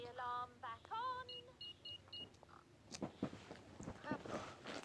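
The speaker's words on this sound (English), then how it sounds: "Switch the alarm back on." A house alarm in a cartoon chirps a short series of electronic beeps as it is switched back on, followed by soft indoor rustles and movement noises at low volume.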